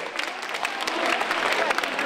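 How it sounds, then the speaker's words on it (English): Audience applause breaks out at a talk about creative problems, a steady broadband clatter of many hands clapping at moderate volume, with a voice cutting in briefly over it. "Big applause."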